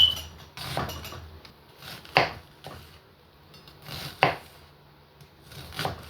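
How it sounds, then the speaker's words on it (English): A whole onion is chopped with a knife on a cutting board, giving sharp, separate knife strikes in an uneven rhythm, close and fairly loud with quiet gaps between them. "I'm gonna go ahead and have them chopped. So I'm gonna use 1 whole onion"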